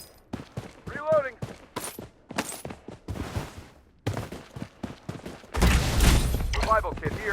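Heavy gunfire fills a round of the shooter video game Blood Strike, with scattered shots and voice callouts leading into a dense, loud burst of rapid fire near the end.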